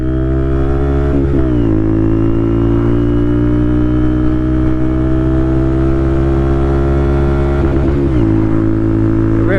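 A Honda Monkey bike with a Yoshimura exhaust revs hard and accelerates, the loud, close engine note climbing through a gear, dipping at the shift, then rising again.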